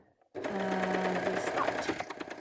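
A sewing machine stitches a t-shirt seam in a quick, continuous mechanical rattle that starts abruptly and runs steadily, close by, with a voice faintly under it.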